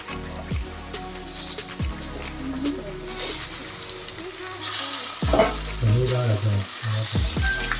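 Four sliced onions fry in hot oil with bay leaf, cloves, cardamom and cinnamon, giving a loud, close sizzle with repeated utensil knocks and scraping stirs that grow busier toward the end.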